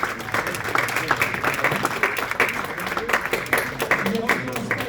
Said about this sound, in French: On peut même l'applaudir puisqu'il a été en bac pro chez nous.